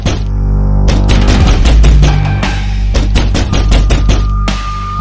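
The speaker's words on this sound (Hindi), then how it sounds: "आखिर इतनी तेज गेट पीट कौन रहा है?" A gate is pounded hard over and over, a rapid series of loud, sharp metallic bangs in close succession that fill the whole moment, with no talking.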